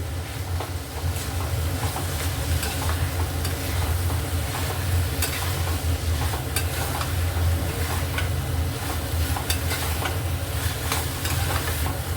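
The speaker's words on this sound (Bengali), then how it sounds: "পোস্ত বাটাটা অ্যাড করে দিলাম দিয়ে ভালো করে এটা হাই ফ্লেমে একটু মিলিয়ে নিই" Mustard and poppy seed paste stirred together with bottle gourd in a pan over a high flame, a dense continuous sizzle broken by repeated scraping strokes of the spoon, close and fairly loud.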